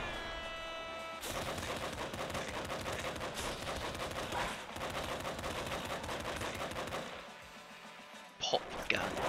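Rapid pop gun fire in the video game Nuclear Throne, a dense run of repeated small shots with busy game effects that drops away briefly near the end before a few final sharp bursts.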